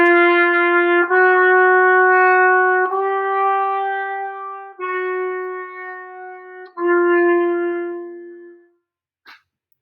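Solo trumpet plays a chromatic run around G, a series of sustained, clearly pitched notes stepping one after another, loud and close with a brief pause and a short blip at the end.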